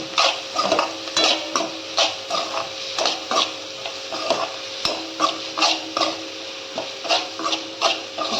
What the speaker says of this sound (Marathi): हळद टाकायची आपल्याला थोडीशी परतून घ्यायचं चांगलं